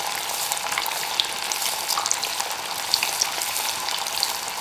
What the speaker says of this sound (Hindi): इस तरह से हम ऊपर इसके तेल डालते रहेंगे ताकि ऊपर से भी कुछ पकती जाए और नीचे से पकी रही है